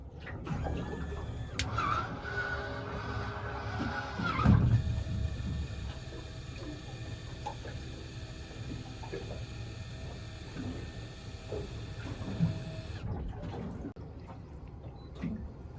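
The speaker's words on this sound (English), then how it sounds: "when you're ready to deploy the trolling motor, just double click this top right button" A Minn Kota Ulterra trolling motor deploys with a steady mechanical whir and ratcheting gear noise, preceded by a louder clunk, then ending in a fading hum as the mechanism settles.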